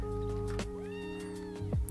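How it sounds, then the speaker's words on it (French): A cat in the farm game Professional Farmer: Cattle and Crops lets out a single rising and falling meow. It is moderately close and sits over a steady humming background with a couple of soft knocks. "j'entends un chat qui miaule dans mon oreille"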